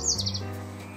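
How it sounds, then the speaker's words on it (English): Birds chirp and tweet outdoors near a primary school, a few bright high calls clustered at the start over a steady low background hum, fairly faint and brief. "Birds are singing."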